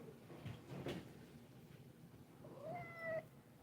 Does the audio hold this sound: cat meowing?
yes